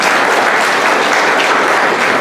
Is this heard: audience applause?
yes